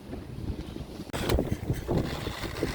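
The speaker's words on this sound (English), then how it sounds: "Just so you know how windy it is out here." Strong, cold wind gusting outdoors in winter, roaring loudly against the microphone with a sharp surge about a second in and continuing in heavy buffeting waves.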